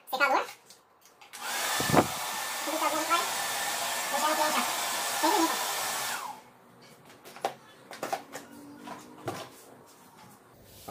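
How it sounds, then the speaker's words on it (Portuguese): A hair dryer at a barbershop during a fade haircut blows loudly for about five seconds with a steady whooshing roar, then cuts off, leaving quieter clicks, handling noises and faint background voices. "Secador."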